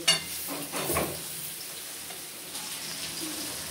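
Soybean and potato curry with cumin powder sizzles in a pan, a quiet steady fry with a few soft scrapes of stirring near the start.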